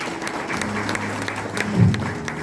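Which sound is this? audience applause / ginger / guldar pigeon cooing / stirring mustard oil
audience applause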